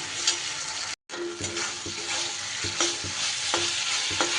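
Chili lote (Bombay duck) fish frying in sauce in a pan, steady sizzling broken by regular scraping stirs of a spatula, close and fairly loud with a brief silent gap early on.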